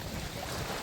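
Strong wind buffets the microphone aboard a boat off the Mexican coast, a continuous loud roaring rush with no pauses.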